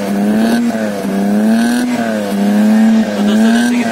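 A Maruti 800 fitted with a racing exhaust is revved hard up close. A loud, raspy drone rises and falls in repeated blips over a few seconds.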